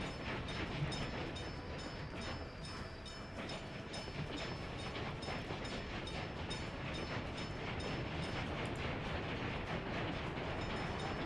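A train in the video game Workers and Resources rumbles past in a steady, continuous roar with faint rhythmic clatter, loud and unbroken for the whole stretch.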